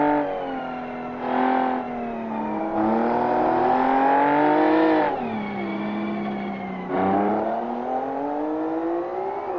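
A race car engine at Sepang climbs and eases on the throttle, its loud, tonal whine rising in pitch through several surges and dips as the driver feeds in power.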